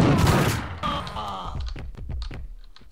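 Rapid bursts of gunfire from the video game Max Payne, loud and dense at first, then thinning into scattered sharp shots and clicks.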